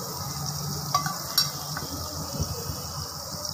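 Butter and oil heat on a flat tawa with a soft, steady sizzle and hiss, with a couple of light metallic clinks from a utensil partway through.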